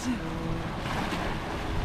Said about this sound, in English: Look at some solid waves on the side of the boat here.